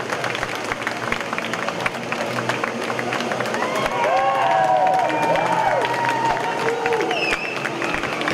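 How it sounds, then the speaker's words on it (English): At the F3 Asian Championship trophy ceremony, a crowd cheers and applauds the local driver, scattered claps turning into a swell of whoops and shouts. "Loud cheer for the local driver, as you would expect."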